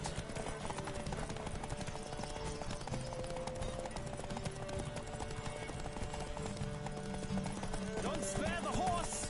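Rapid hoofbeats of a galloping horse in The Witcher 3 video game pound steadily throughout, with a brief whinny near the end over a busy, dense background.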